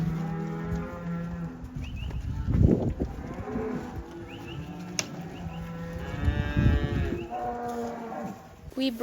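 Dairy cows in a barn with a feed barrier moo repeatedly, long drawn-out calls rising and falling at close range over low shuffling and background noise.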